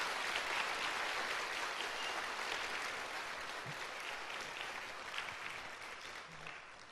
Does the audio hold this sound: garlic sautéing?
no